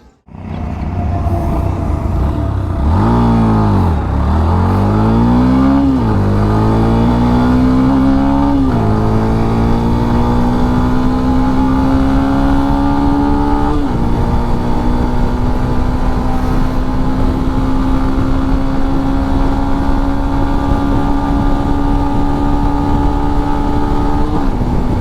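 A 2023 Yamaha FZ-X motorcycle is ridden, its engine revving up through several gear changes and then settling into a steady, loud drone. The sound is continuous and close, with no talking.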